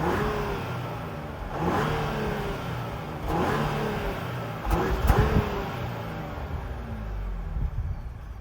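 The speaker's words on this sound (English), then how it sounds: "So we've got the 3-liter twin turbo engine here." The 3-liter twin-turbo engine of a 2025 Ford Explorer ST revs three or four times at idle, each rev a smooth rise and fall over a steady hum, heard at moderate volume from nearby.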